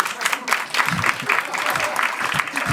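A comedy club audience claps in answer to a comedian's show-of-hands question, a dense, fairly close burst of applause that holds steady for a few seconds with a bit of crowd voice underneath.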